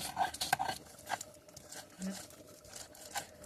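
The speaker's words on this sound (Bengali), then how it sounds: "এবার বন্ধুরা আমি পেঁয়াজটা বেটে নেবো" An onion is ground by hand into a paste. Quiet, irregular scraping strokes and light knocks come close up, with pauses between them.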